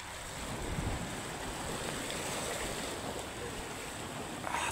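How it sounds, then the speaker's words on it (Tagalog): Calm sea with small waves washing steadily at low level, a soft continuous surf hiss with faint wind, and no voices. "Tahimik ng dagat."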